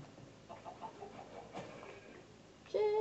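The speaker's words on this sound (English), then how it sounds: "Chicken, chicken, come on, buddy." A chicken clucks close by in a few soft, scattered bursts, followed by a louder, sharper squawk at the end, with no voices over it.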